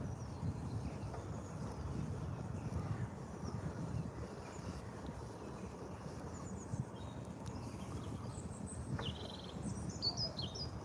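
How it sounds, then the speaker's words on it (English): Birds sing and chirp faintly in a Glasgow park in early spring, their scattered calls sitting over steady wind and outdoor rumble, with a few brighter twitters near the end. "hopefully you can hear the birds"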